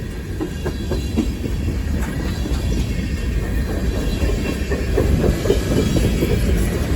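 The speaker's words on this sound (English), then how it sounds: "Still no end to the train." A long CSX freight train rumbles past westbound in a blizzard in Holland, Michigan, with rhythmic wheel clatter and a steady low roar that grows slightly louder toward the end.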